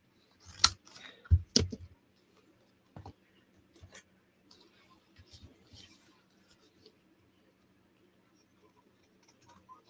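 Scissors snip around the rounded corners of a paper journaling card in a few quick, close cuts at the start, then fainter clicks and soft paper handling follow, with little else around them.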